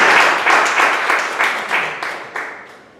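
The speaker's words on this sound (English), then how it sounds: "Give him a big round of applause, please." Audience applause at a Toastmasters meeting welcoming a member to the dais, loud close clapping in short pulsing swells that slowly taper off over a few seconds.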